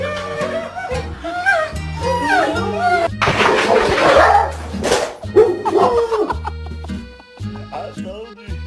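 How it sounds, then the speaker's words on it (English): A dog barks in loud, repeated bursts close by, with whimpers and yips mixed in, while people talk over the commotion outdoors near a tree. "And she's barking."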